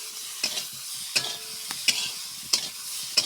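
Cauliflower frying in oil in a pan, a soft continuous sizzle punctuated by several sharp spatula scrapes and taps at irregular intervals, with no voices.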